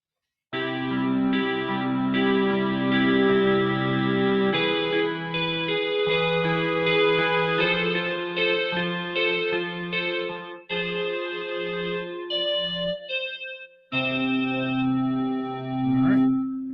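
A Korg opsix FM synthesizer plays sustained chords and melodic phrases drenched in heavy reverb, with bright harmonic tones and a brief gap before the final chord.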